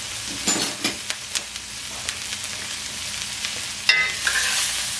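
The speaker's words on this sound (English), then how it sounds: "I'm going to pull these out of the skillet as well and put it in the same pot as the onions." Browned pieces for chili being scraped and moved from a hot skillet into a pot of onions, steady sizzling under scattered clinks and scrapes of a utensil, close and with no voices.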